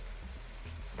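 A soft, steady sizzle of pork pieces for Haitian griot frying in an air fryer, heard close up and alone.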